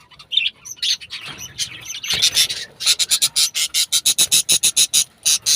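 Baby birds chirp rapidly and loudly up close after rain, the high peeps starting irregular and settling into a fast, steady run of calls.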